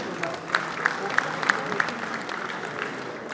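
A crowd at a political party general assembly claps in short bursts, with scattered sharp claps over a steady murmur of voices, fairly distant and moderate in volume.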